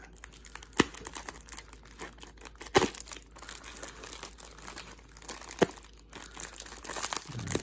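A package mummified in packing tape is torn and unwrapped, giving continuous crinkling and crumpling with sharp tearing bursts at intervals, close and fairly loud, with no talk.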